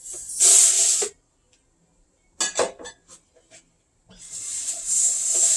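Basmati rice is washed under running water: two loud hissing bursts of tap flow separated by quieter splashing and rattling of grains in a bowl, close by with no talk.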